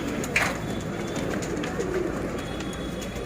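Pigeons in a breeding loft in Mumbai coo softly amid steady background hum, with a few short calls and flutters scattered through.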